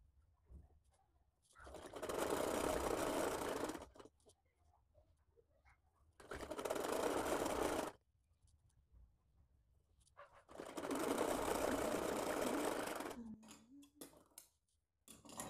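A sewing machine stitching a baby ear cap in three separate bursts of fast, even whirring, with quiet pauses between them.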